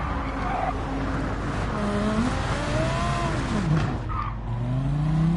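A GT3 race car in Gran Turismo 7 braking hard, tires squealing and skidding in long wavering tones over a steady engine drone, the screech rising and falling for several seconds.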